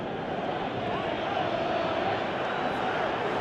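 A football stadium crowd in PES 2018 roars in a steady, dense wall of noise urging a player to shoot, with no break across the stretch.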